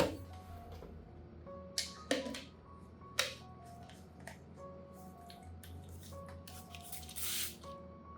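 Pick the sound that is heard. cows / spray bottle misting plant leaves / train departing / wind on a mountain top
spray bottle misting plant leaves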